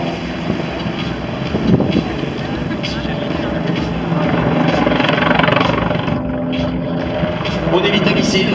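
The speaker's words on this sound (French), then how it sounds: "cet hélicoptère va basculer d'un seul coup pour fondre vers le sol" A helicopter flies an aerobatic dive at a world aerobatics championship air show in Châteauroux, a loud continuous rotor and engine roar with wind buffeting and a commentator talking over it.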